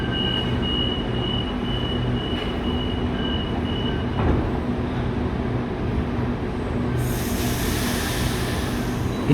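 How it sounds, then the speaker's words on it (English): Inside a running Sydney Waratah suburban electric train, a steady rumbling roll with a constant hum, a faint whine and a brief click or two, then a brighter hiss near the end. "today I am on board a Waratah train"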